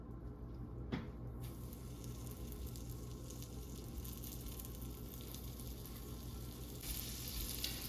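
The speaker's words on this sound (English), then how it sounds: "I'm searing this in batches" Venison eye of round searing in batches in a hot pan, a steady close sizzle and fry with a few brief stirring or placing sounds.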